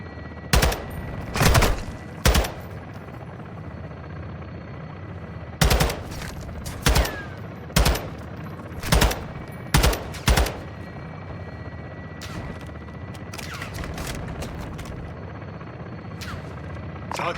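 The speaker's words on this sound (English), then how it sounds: "Where are they shooting at me from?" Video game gunfire rings out in sharp, loud shots spaced irregularly, some single and some in quick pairs, over a steady background hum, with the later part quieter and more distant.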